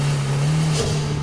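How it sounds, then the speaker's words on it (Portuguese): A turbocharged engine hums at a steady pitch, then its blow-off valve gives a brief, sharp puff of released air partway through, close and fairly loud. "é esse som que a gente ouve aqui, do ar sendo expelido pela válvula de alívio"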